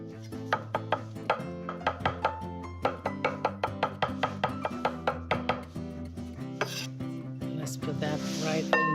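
Small capers roughly chopped with a knife on a board, a run of quick, evenly spaced close knocks that slows and gives way to scraping and rustling at the end.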